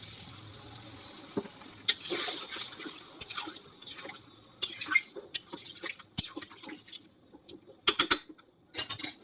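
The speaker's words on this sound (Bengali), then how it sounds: "এই 1 কাপ জল দিচ্ছি।" A cup of water is poured into a pot of chicken curry, giving brief splashes and clinks of the cup against the pot amid soft sizzling, with irregular bursts rather than a steady stream.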